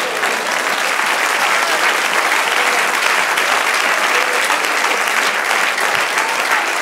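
A church congregation applauding during a Spanish-language sermon, dense and steady clapping that carries on for several seconds without a break.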